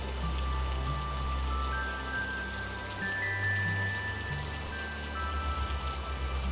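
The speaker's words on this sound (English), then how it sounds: "Listen to the rhythmic pattern of the drops hitting the ground" Steady rain falls on the ground in a dense, even patter of drops, continuous and close for the whole stretch with no voices.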